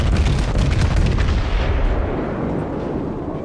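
Naval gunfire and shell impacts on a warship in the World of Warships game, a dense burst of heavy booms and blasts up front that rumbles down into a lingering fading roar.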